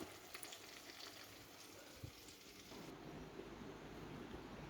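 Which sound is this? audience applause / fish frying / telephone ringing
fish frying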